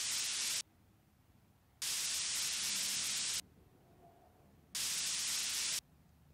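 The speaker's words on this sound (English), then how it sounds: "So much static." Harsh static noise from the video game Angels of Death comes in three loud, flat bursts of hiss, each about a second long, cut off abruptly between stretches of quieter low hum.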